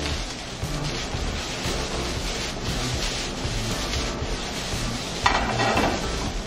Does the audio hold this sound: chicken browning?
yes